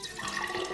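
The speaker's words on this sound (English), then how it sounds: "I'm gonna pour this in the container." Hydrogen peroxide poured into a container for an elephant toothpaste experiment, a steady close liquid splash and trickle filling the short moment alone, without speech.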